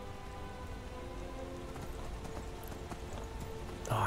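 Horse hooves clip-clop steadily in the Skyrim video game, mixed with a patter of rain, closing with a brief neigh-like burst.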